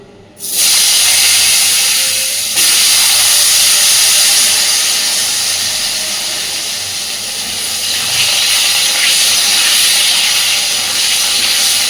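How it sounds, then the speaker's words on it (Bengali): Potatoes fry in a wok of hot oil for a fish kalia, giving a loud, steady broadband sizzle that jumps up in the first half-second and holds close to the pan throughout. "এই তেলের মধ্যে এবার আমি আলুগুলোকেও সুন্দর করে ভেজে নেব"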